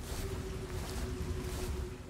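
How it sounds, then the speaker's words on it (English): Flowing water in the Metal Gear Solid 3 video game, a steady broad rushing wash with a faint tonal hum, moderately quiet and continuous, with no talk over it. "I hear water."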